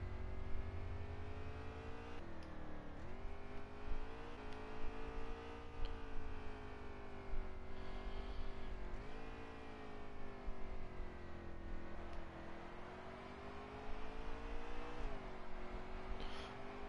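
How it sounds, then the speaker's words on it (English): Race car engines revving in an Xfinity Series video game race at the Charlotte Roval, a steady high whine that rises and dips with shifts and braking, moderately distant and continuous with no talk. "He's overdriving the car so hard just to try to catch Larson"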